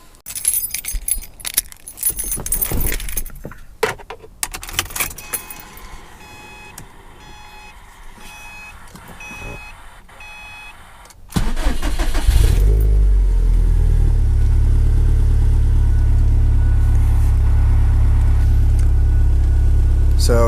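Subaru Group N engine with a top-mount intercooler refitted is cranked by key after jangling keys and handling sounds, catches, and settles into a loud, steady close-up idle.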